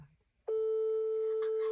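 A telephone rings with a steady electronic tone that starts abruptly after a brief quiet moment, loud and close, continuing unbroken to the end with faint background noise.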